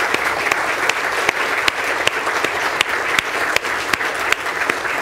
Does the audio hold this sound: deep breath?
no